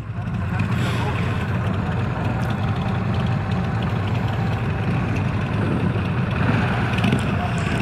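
Idling 2024 Harley-Davidson CVO Pan America motorcycle engine, a steady low rumble held at an even level throughout, close by, with a person talking over it.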